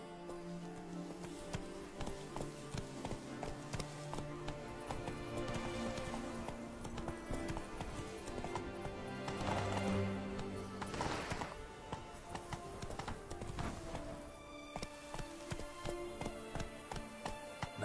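A horse's hooves clip-clop in a steady, rapid rhythm through the Toussaint landscapes of The Witcher 3: Blood and Wine, set against layered game music and ambience, moderately loud with no voices.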